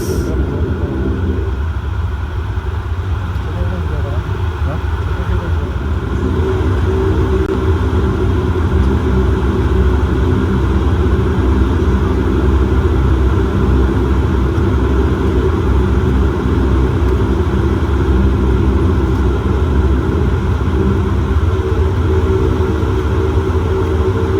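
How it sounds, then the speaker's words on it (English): Passenger jet taxiing onto the runway before takeoff, heard from inside the cabin as a loud, steady low engine rumble and hum that holds throughout with no clear change. "Finally on the runway for the takeoff."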